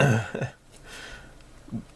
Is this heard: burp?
yes